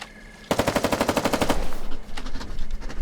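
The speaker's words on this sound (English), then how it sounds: "Now shoot it and disable it." Rapid automatic gunfire in the Foxhole war video game, a loud, close burst of evenly spaced shots that fades into a rumbling tail and scattered sounds.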